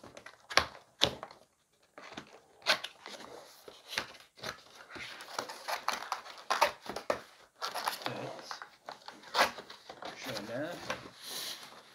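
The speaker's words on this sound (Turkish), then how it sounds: "Direkt ürünü kutudan çıkaralım." A Rampage KM-R7 keyboard and mouse set comes out of its large box, with close rustling, crinkling packaging, scraping and a scatter of dull thunks in an irregular rhythm.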